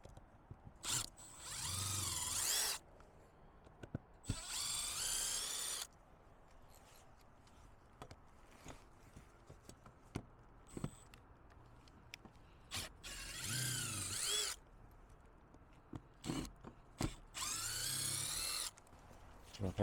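Cordless power drill driving square-drive screws into a loose RV ladder mount, several whirring bursts of a second or two each with quiet pauses, clicks and handling noise between them, close by.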